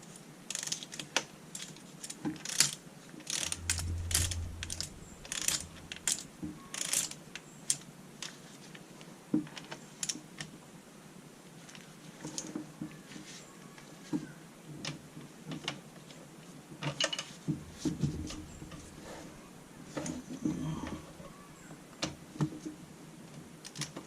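Ratchet clicks and metallic tool sounds while rocker arm bolts on the cylinder head of a 2014 Dodge Charger Pursuit are tightened evenly, close up, in a steady series of sharp ticks with short pauses, no talking.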